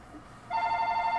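A telephone in Ni No Kuni: Wrath of the White Witch starts ringing suddenly after a quiet moment, a bright electronic trill with a rapid warbling pulse, sustained and clear with nothing else over it.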